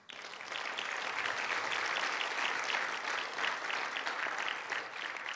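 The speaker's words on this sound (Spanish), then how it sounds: "Aplauso al Señor" A church congregation claps together, a dense, sustained wash of applause that swells quickly and holds steady for several seconds, with no speech over it.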